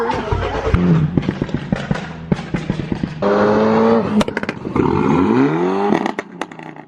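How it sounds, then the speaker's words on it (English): A tuned BMW F32 428i cold-starting: a sharp crank and catch, then the engine flares and revs rising and falling in two loud swells before settling toward idle, close to the car. "moment of truth, quick cold start for the people"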